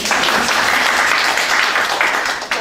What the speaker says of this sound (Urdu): تو تالیاں بنتی ہیں نا آپ لوگوں کی